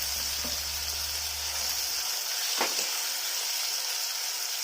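Tomato, onion and chili fry in a pan with a soft, steady sizzle, broken by a brief scrape of stirring midway; fairly quiet and continuous, no speech.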